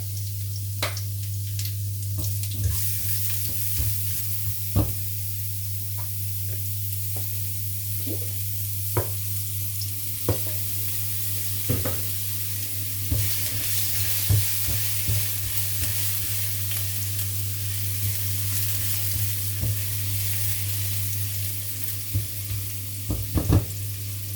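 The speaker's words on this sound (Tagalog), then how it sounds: "Tapos, magigisa tayo ng bawang. Yan, lagyan natin ng konting luya." Garlic and ginger sautéing in a pan for ampalaya with lechon baboy, a steady close sizzle with repeated utensil scrapes and stirring clicks over a low hum, no voices.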